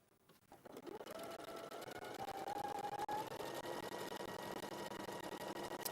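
A domestic sewing machine stitches a quarter-inch quilting seam, starting up and then running in a steady, fast, even whir that holds close and loud throughout.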